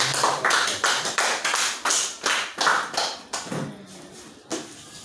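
A church congregation clapping in a steady rhythmic beat, about a dozen loud claps spaced evenly, fading slightly toward the end, with little or no talk.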